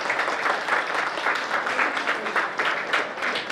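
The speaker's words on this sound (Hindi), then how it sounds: "तालियां बजती रहे तो अच्छा लगेगा।" Audience at a student award ceremony applauding high exam marks, a lively crowd clapping in slightly pulsing waves at moderate loudness.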